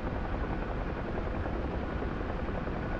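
An Mi-24 attack helicopter in a combat video game, a loud, steady, dense rotor-and-turbine roar that holds unbroken throughout.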